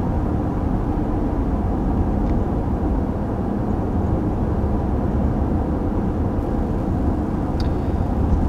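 Steady cabin drone inside a 2020 Dodge Durango R/T Blacktop cruising at 55 mph, with a constant low road and engine rumble plus wind hiss and no pauses or speech.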